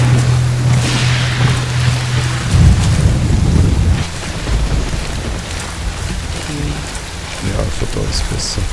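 Steady heavy rain in the tactical shooter game Ghost Recon Wildlands, a loud continuous wash with low rumbles, while someone speaks intermittently over it.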